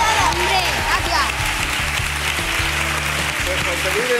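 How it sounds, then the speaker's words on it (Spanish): A studio audience applauds loudly on a Spanish fan-themed TV show, dense clapping under voices talking over it. "se merecen un aplauso súper fuerte"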